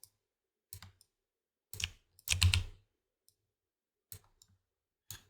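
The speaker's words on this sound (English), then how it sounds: "I'm selecting these and pressing Q on the keyboard to align them" Keys on a computer keyboard are pressed in short separate bursts with silence between them, a quick cluster of clicks in the middle, while editing motion matching in Unreal Engine 5.4.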